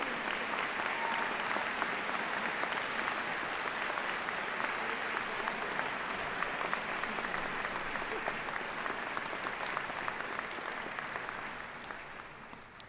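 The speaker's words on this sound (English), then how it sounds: "Please join me in a round of applause for their hard work" Sustained round of applause from a commencement ceremony crowd honoring faculty, dense and even clapping that holds steady for about twelve seconds before tapering off at the end.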